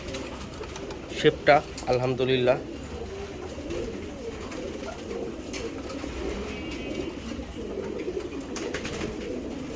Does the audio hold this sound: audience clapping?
no